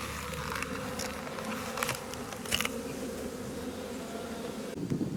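Honeybees buzz around an open beehive, a steady drone of many insects close by with a few louder passes and faint knocks, no voices.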